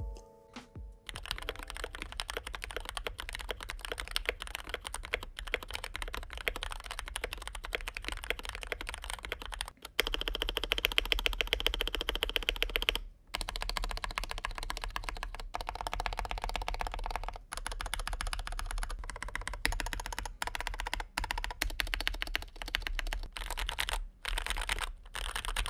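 Fast, steady typing on a taped Fantech MAXFIT61 mechanical keyboard with Gateron Yellow switches, close and fairly quiet muted clacks in continuous runs with a few brief pauses, and no talking.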